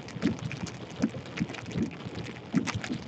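Steady rain from a hail-producing thunderstorm hisses outdoors, with soft recurring low rumbles and gusty texture, moderately loud and without any voices.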